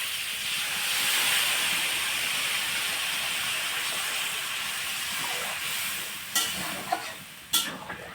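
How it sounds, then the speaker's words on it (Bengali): Water goes into a hot pan of Bengali-style young goat mutton curry, a loud steamy hiss and sizzle that swells early then slowly eases, with a few clanks of a utensil near the end. "এখন আমি দিয়ে দেবো জল।"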